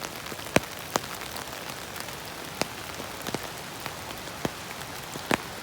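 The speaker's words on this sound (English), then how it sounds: "Pretty steady rain right now." Steady rain on the Appalachian Trail near Derrick Knob in January, a dense hiss of falling drops with scattered sharp close taps of individual drops striking a nearby surface.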